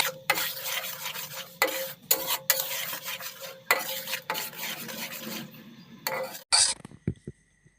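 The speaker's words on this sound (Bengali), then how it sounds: "এক কাপ আখের গুড় আমি ভালোভাবে দিয়ে মিশিয়ে নিচ্ছি।" Jaggery being stirred into tamarind chutney in a pan, a steady scraping stir with repeated rhythmic strokes at close range and short pauses, ending in a few sharp metallic clinks of the spoon against the pot.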